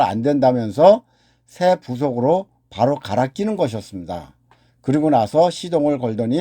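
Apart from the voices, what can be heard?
No distinct noise like a dog, phone or traffic.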